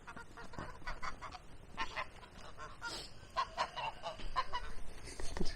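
Geese honk and chickens cluck around a countryside village lane in Ukraine. The calls are scattered, moderately close and fairly faint, mixed with rustling background noise.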